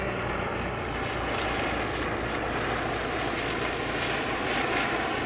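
A loud, steady roar of two helicopters passing overhead, a continuous engine drone that stays level and close for the whole stretch.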